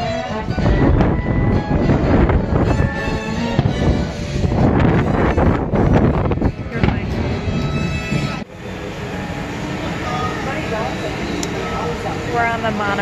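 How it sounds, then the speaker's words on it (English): Steady rumble and rush of the Disney monorail in motion, loud and continuous with wind buffeting, shifting to a smoother, quieter ride partway through as people talk over it. "We're on the monorail."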